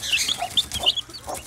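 Chicks and young chickens cluck and peep in a pen alongside newly hatched African goose goslings, a quick flurry of close, overlapping high chirps and short clucks with no voices.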